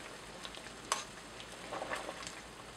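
Soft scraping and faint clinks of a spoon stirring a pot of simmering rosemary, quina and aloe vera infusion, quiet and close, with a few brief sharper taps and no voices.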